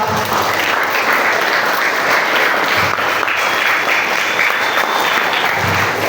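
Dense, steady applause from a student audience at a school alumni inspiration session during orientation week, continuous and full for several seconds with no speech over it.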